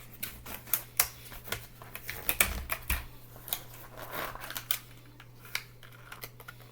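Glued plastic knife packaging being cut open, a run of sharp irregular clicks, snips and crackles of plastic against a low steady hum, close and fairly quiet.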